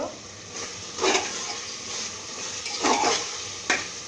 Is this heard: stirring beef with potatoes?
yes